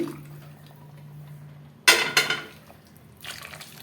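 Cooking water splashes into a pot of mutton gravy in two quick pours, followed by a brief softer trickle against a faint background hum.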